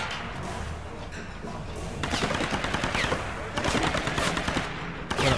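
Sustained automatic gunfire in the video game Tomb Raider rattles in dense bursts, growing heavier midway, with a faint voice briefly underneath.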